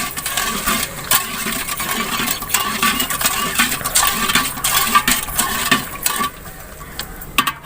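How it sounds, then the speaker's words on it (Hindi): A metal spoon scraping and clinking against a pot while sugar is stirred into an herbal syrup on a stove, with repeated sharp taps and scrapes in an uneven rhythm, close and loud, with no talk. "अब इसको इस तरह हिलाते रहना है जब तक चीनी हाल ना हो जाए।"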